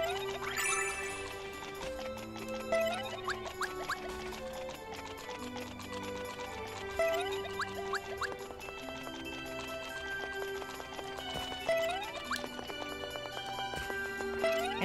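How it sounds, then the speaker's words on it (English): Little pattering footstep sounds from a character running through a level of the video game Super Mario Bros. Wonder, set among busy game music and effects, with quick repeated steps throughout. "I love the little footstep noises too"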